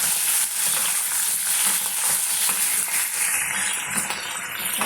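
Slit green chillies fry in hot oil for chicken pulihora, giving off a loud, steady, crackling sizzle with occasional stirring scrapes. It runs without pause and no one speaks.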